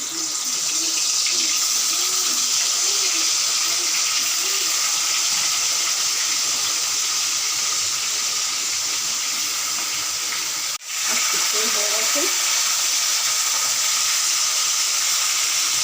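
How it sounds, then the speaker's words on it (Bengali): Small fish frying in oil in a pan while cooking ilish head with Malabar spinach, a steady loud hiss and sizzle filling the whole span, with a brief dip and faint clatter near the end. "মাছগুলো ভাজা বসাচ্ছি।"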